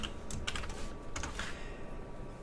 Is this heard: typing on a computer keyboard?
yes